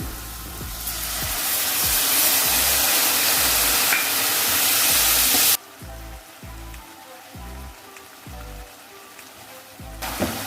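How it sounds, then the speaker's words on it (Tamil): Tamarind water hits a hot pan for paruppu urundai kuzhambu with a loud, bright sizzle that swells and holds for several seconds, then cuts off abruptly, leaving quieter bubbling and a few utensil knocks before a brief second hiss. "இப்போ புளி தண்ணி ஊற்ற போகிறேன்."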